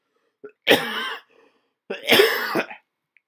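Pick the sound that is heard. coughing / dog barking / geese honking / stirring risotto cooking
coughing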